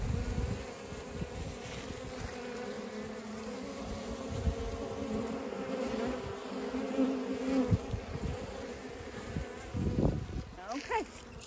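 Bees buzz continuously around a yellow ant box outdoors, a steady insect drone with occasional closer passes swelling louder, plus light handling thumps near the end.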